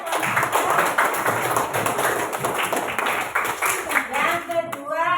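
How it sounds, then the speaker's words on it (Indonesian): Classroom of students clapping for a presenting group, dense fast applause filling about five seconds, loud and close, with a voice speaking over it near the end. "Tepuk tangan untuk kelompoknya Gaza"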